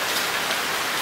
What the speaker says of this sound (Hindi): अगर बारिश रुकेगा नहीं